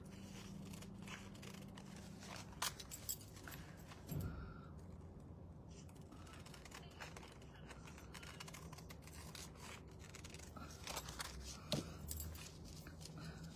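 An IOD paint inlay sheet is cut to size with scissors, faint crisp snips and crackling of the sheet scattered over a quiet room, with no speech.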